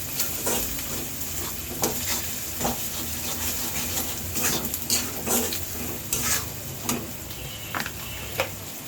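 Ginger garlic paste sizzles steadily in a hot pan for garlic pickle, broken up by repeated scrapes and taps of a spatula stirring it against the metal.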